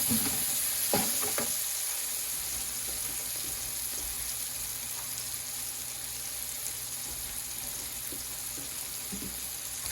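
Seasoned mushrooms sizzle steadily in a hot pan as they caramelize, a constant close frying hiss with a few sharp clicks and scrapes from stirring early on.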